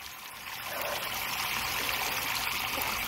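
Water trickles and splashes steadily onto a freshly planted garden plant as it is watered, a close, continuous broadband flow that swells slightly after the first half second and then holds even.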